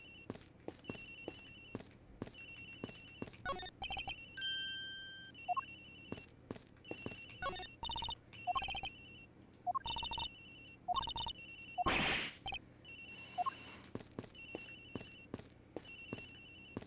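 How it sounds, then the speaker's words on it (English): A mobile phone ringtone chirps in repeated short bursts inside a video game, quiet and steady, with faint clicks and game sounds between the rings. "Oh, cell phone signal's hearing from somewhere else."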